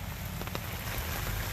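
Steady rain patters on the mulch and ground of a chicken coop yard, a continuous close hiss of drops with a few brief louder taps, no talking.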